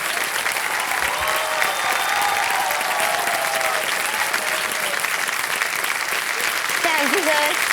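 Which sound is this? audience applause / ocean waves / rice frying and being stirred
audience applause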